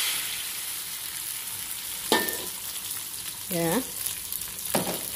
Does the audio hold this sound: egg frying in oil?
yes